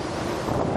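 Strong typhoon wind gusting outdoors in Wuqi, Taichung, roaring as a steady, loud broadband rush with buffeting against the microphone, no voices present.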